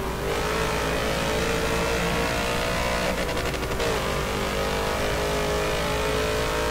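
Loud sustained engine roar from a Nissan Skyline GT-R R34 race car in Forza Motorsport 7 at Hockenheimring, pitch holding steady then briefly shifting, with a raspy burst partway through.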